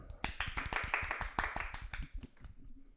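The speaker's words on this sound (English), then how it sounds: "Golf clap." A few people give a quick, scattered round of light clapping, a mock golf clap in a podcast studio, with sharp individual hand claps close by that thin out and fade after about two seconds.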